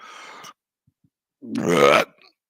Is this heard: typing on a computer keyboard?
no